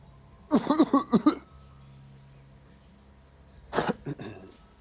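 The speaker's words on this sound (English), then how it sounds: "And I'm gonna be coughing." Two short bursts of harsh coughing, close by, separated by a few seconds of quiet.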